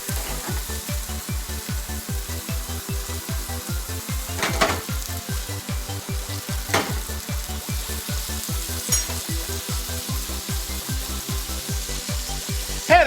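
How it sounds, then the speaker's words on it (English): Mushrooms frying with butter in a pan, a close, steady sizzle pulsing in a quick regular rhythm, with a few brief clinks of a utensil against the pan. "Now I'm gonna put some butter in with my mushrooms"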